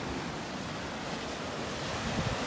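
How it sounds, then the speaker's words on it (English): Ocean waves and strong wind on the Corfu coast in winter, a steady broadband wash of surf roaring with gusting wind buffeting the microphone, continuous and loud with no voices. "I'm loving the waves and loving the wind"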